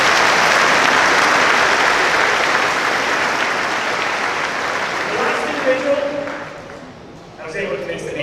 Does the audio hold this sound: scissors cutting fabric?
no